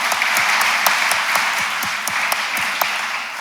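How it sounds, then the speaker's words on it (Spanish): Audience at a women's day ceremony applauding for Cecilia, a full, sustained round of clapping with some sharper individual claps standing out near the front. "le damos un aplauso a Cecilia"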